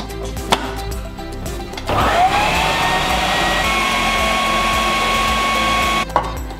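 Blender whizzing broccoli soup with lemon zest and half an avocado, a steady high motor whir that starts after a couple of seconds of handling noise and runs evenly before cutting off near the end.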